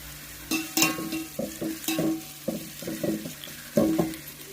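Chicken biryani base sautéing in a pan until golden brown, with repeated stirring strokes scraping through a steady sizzle at close range, no talk.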